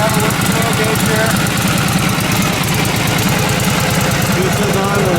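A restored 1937 Harley-Davidson EL Knucklehead OHV motorcycle engine idling close by, a loud, steady, uneven rhythmic chugging with mechanical clatter throughout.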